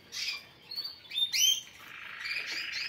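Small caged birds, males and females kept together for breeding, chirp and tweet in quick high bursts, some sharp squeaky calls rising over a steady bright twittering, close by with no talk.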